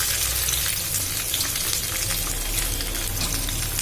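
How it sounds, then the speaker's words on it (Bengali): Chopped onions frying in mustard oil for a goat meat curry, giving a loud, constant close sizzle that fills the whole stretch, with faint stirring and no talking. "এবার আমি দিয়ে দিচ্ছি সরিষার তেল, পরিমাণ মতন সরিষার তেল। এবারে দিয়ে দিচ্ছি এই যে পেঁয়াজের কুচি"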